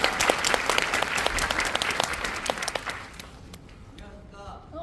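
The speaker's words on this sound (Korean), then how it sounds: "한 번만 스태프분들을 위해서 박수" A theatre audience applauds at the final-performance curtain-call stage greeting of a stage musical, a dense burst of clapping that thins out and fades after about three seconds, leaving quiet room sound and a voice.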